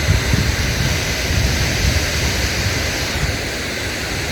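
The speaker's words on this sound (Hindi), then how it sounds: "ये देखिए कितना तेज पानी का बहाव है झरने का" A strong waterfall on the Shrikhand Mahadev trek roars as a dense, steady rush of water, loud and close throughout, with no voices.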